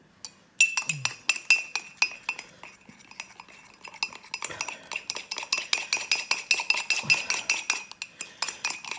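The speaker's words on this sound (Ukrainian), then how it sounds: "Починаємо розбивати її. Розбиваємо вилкою." A fork beats an egg in a bowl with rapid, rhythmic clinking taps against the side. The taps start sparse and build into a fast steady whisking run, close and alone.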